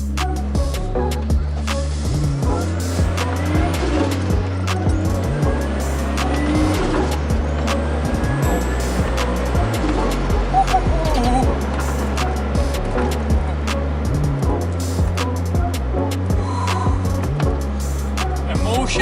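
A turbocharged Mazda MX-5 Miata fitted with a new engine and turbo drives along with a loud, steady engine drone that repeatedly rises and drops through gear changes, accompanied by road and wind noise, captured from inside the cabin.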